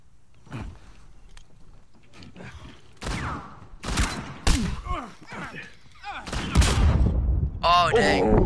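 Gunfire in a shooter video game, with bursts of shots, thuds and mechanical clanks building toward dense firing near the end, while players talk over it.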